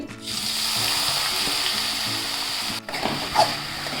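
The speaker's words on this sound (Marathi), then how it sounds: "भोपळा परतून घेते" Grated bottle gourd sautéing in ghee in a kadai gives a steady close sizzle with soft stirring scrapes, broken by a brief pause near the end.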